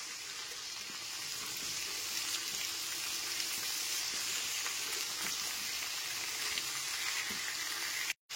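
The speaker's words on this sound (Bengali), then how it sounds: "গ্যাসের ফ্লেমটা মিডিয়ামে রেখে 3 থেকে 4 মিনিট ধরে সবজিগুলোকে ভেজে নিতে হবে" Mixed vegetables with eggplant fry in a pan over a medium gas flame, giving a steady, even sizzle and hiss that runs unbroken and cuts off abruptly at the end. There is no talk.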